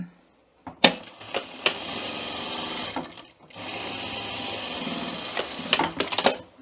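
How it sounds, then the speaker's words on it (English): A sewing machine stitches a half-inch side seam on a welt pocket garment in bursts, whirring steadily between sharp clacks and a brief pause. "we're just going to sew a 1/2 inch seam straight down on the sides"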